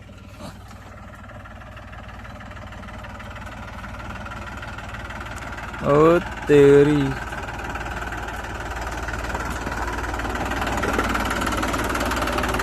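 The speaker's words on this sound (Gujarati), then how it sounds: "જો પાછળ ટ્રેક્ટર આવે છે." A New Holland tractor engine runs steadily throughout at a moderate distance, with a brief louder burst of rumble partway through; a person speaks briefly.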